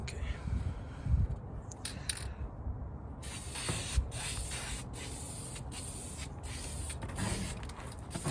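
An aerosol can sprays wrinkle black paint onto an engine valve cover in a long steady hiss, broken by short pauses between passes, close and fairly loud.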